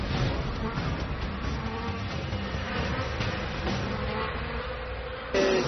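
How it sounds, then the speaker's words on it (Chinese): Worker honeybees returning from foraging crowd at the entrance of a hive around midday, a dense continuous buzzing drone close by, with faint murmurs beneath and a brief tonal sound near the end. "外出采粉的工蜂开始归巢。 这时又像上次一样出现了蜜蜂拥堵的现象"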